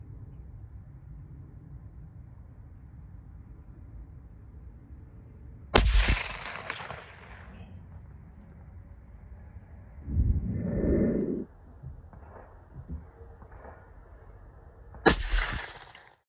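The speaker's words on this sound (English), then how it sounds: "So with the CheyTac, we hit it a couple times." Two sharp, loud gunshots from a CheyTac M200 Intervention sniper rifle, spaced far apart with a long ringing tail after each, against a quiet outdoor background with a faint rumble between them.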